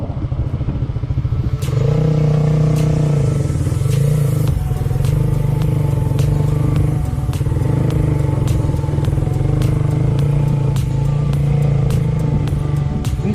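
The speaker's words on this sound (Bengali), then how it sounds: "মধ্যে আসলে বাইক চালানোটা একটু কষ্টকর" Motorbike ridden on the sandy beach at Kuakata, a loud steady engine drone with rumbling and clattering from the ride, continuous throughout.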